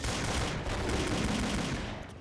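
Shotgun blasts in the video game Killing Floor, a dense, loud burst of gunfire filling the whole moment with no pause, close and harsh.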